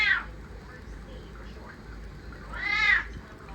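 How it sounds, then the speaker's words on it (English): Two cat meows over a quiet background: a brief one at the start and a longer, drawn-out meow near the end. "You want kitty food, Roby?"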